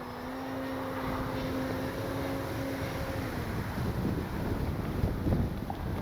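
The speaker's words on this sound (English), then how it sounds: "Oh boy, is it windy." Steady wind roars across the microphone, with a faint whining electric motor tone from an E-flite Carbon-Z T-28 model airplane fading out partway through.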